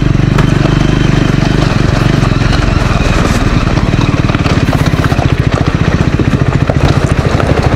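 A Triumph Scrambler 400 XC motorcycle cruises over a potholed road, its engine a steady, loud, close drone with a faster pulsing throb building in the second half, plus wind and road rumble.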